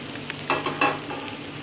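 Onion frying in a pan for egg tawa masala, a soft steady sizzle with a few brief stirring scrapes, close and fairly quiet, with no talking.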